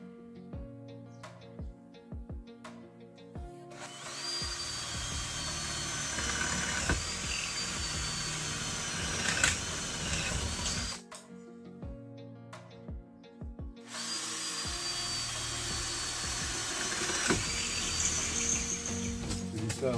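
Electric drill boring holes in the inner part of a tiny house window frame, in long steady whining runs broken by brief pauses and scattered knocks, fairly close.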